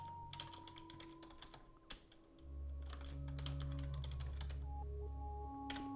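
Quick, light keystrokes on a computer keyboard entering a follower's name in the game Cultist Simulator, a brisk run of taps at a moderate distance over a low steady hum, with no voices.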